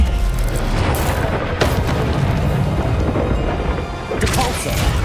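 Incendio fire spell cast in Hogwarts Legacy: a loud, dense roaring whoosh of flame with heavy low rumble and a couple of sharp impact bursts, continuous and close throughout.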